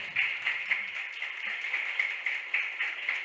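Muffled, steady applause for a coordination team at a council swearing-in ceremony, a continuous pulsing patter of many hands heard thin and distant, with no talk over it.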